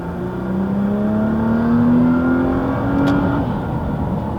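A Nissan GT-R engine revs up with a rising whine, accelerating strongly and close by, then easing off near the end.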